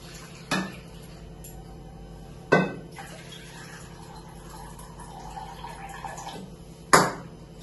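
Lentils being washed in water in a metal pot, with a soft, steady watery swish beneath three sharp metallic clanks spaced a couple of seconds apart, close by.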